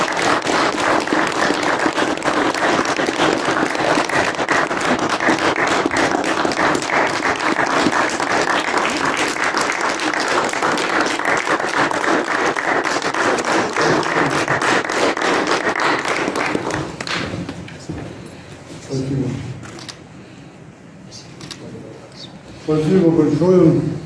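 An audience applauds a medal presentation at a church award ceremony with sustained, loud, even clapping for about seventeen seconds before it fades out, after which a voice speaks briefly.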